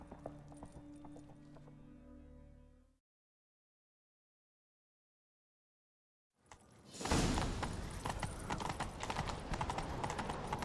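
Horse hooves clip-clop in The Witcher 3 Next Gen as a rider sets off in pursuit. A few seconds of hoofbeats cut to a silent gap, then a louder, busier gallop rushes back in.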